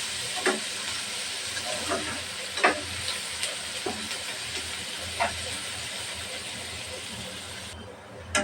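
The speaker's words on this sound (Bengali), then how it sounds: "পেঁয়াজটা ভালোভাবে ভাজে নেব।" Chopped onion frying in a pan for egg bhuna, a loud steady hiss of sizzling oil broken by several sharp stirring scrapes, close up with no talk.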